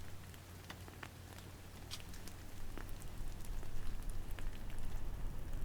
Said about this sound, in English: The snow was melting so quickly,